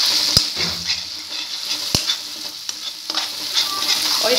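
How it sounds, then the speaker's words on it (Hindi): Cashews and onions fry in a pan for shahi paneer while being stirred constantly, a steady sizzle punctuated by a couple of sharp spoon knocks against the pan. "इसको हमें लगातार चलाते रहना है क्योंकि काजू हमारे मीठे होते हैं और वो नीचे लग जाते हैं"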